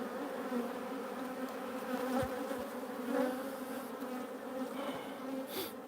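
Australian honeybees hum steadily around a hive as a frame is shaken off, a close, continuous buzzing drone with a few brief knocks.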